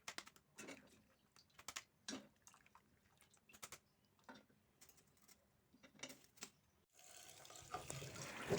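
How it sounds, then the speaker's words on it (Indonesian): Boiled noni leaves are handled in a kitchen with scattered clicks and clatters, then running tap water begins, a steady close hiss of flowing water for the last couple of seconds. "Kemudian kita cuci rebusan daun mangkudunya di air mengalir."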